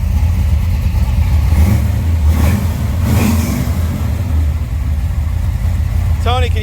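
A 1979 Chevrolet Corvette with Flowmasters exhaust runs steadily nearby, a deep, even rumble that holds for several seconds without fading.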